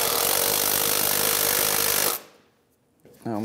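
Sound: socket wrench loosening hose clamp on Hyundai Sonata intake

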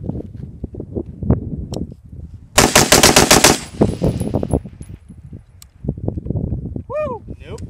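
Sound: automatic gunfire shooting at an armor plate

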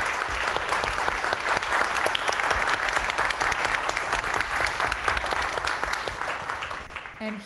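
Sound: audience applause for panel

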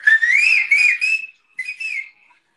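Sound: person whistling

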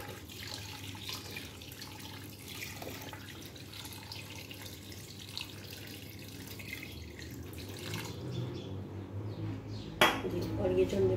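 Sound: pouring water into pot of chicken for boiling

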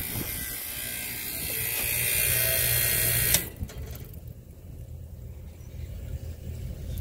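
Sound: freezer refrigeration system switched on and running

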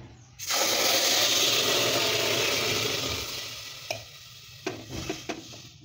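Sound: water poured into roasted lentils in pressure cooker, sizzling

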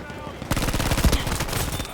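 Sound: gunfire in a video game

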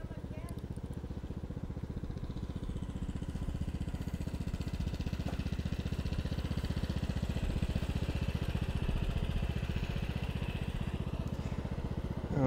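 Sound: child driving a ride-on lawn mower over the lawn

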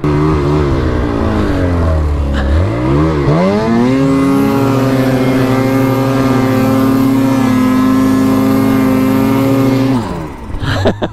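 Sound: snowmobile engine revving under throttle

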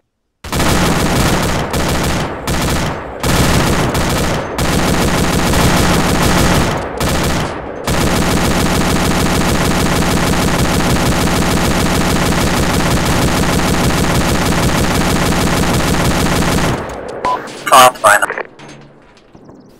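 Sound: gunfire from a base defense video game

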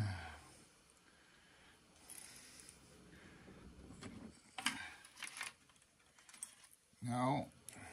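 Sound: keys being tried in a cash register's locks

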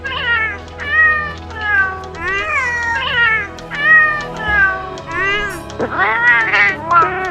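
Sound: cat meowing voice from a video game

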